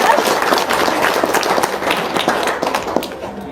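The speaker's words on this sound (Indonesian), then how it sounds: "Tepuk tangan dong." Audience applause at a local-wisdom teaching and testimony gathering: dense, steady clapping fills the whole stretch, loud and close, with voices mixed in.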